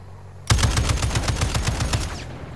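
Automatic gunfire from the video game Warzone DMZ, a sudden loud burst of rapid shots in a steady rhythm lasting about a second and a half before it cuts off.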